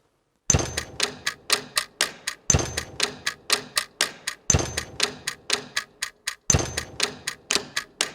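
A steady timer on a Silence + Other Sounds Mystery Box 3 ticks in rapid, sharp clicks, grouped in four bursts of about a dozen ticks each, close and clear with no talking.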